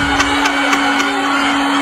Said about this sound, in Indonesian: kalau istrinya ngomel lagi dihidupkan lagi blendernya